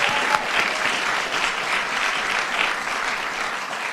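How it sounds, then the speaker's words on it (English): Dense applause fills a room at a New Jersey bill-signing event, a steady, even wash of many hands clapping at close range that holds its level throughout. "you deserve a big round of applause for that"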